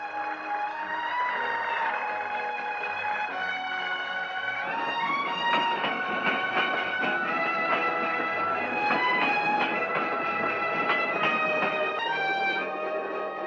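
A train rumbles along with a steady, echoing clatter and tonal hum, growing busier and more metallic midway through, in a 1976 Tamil film.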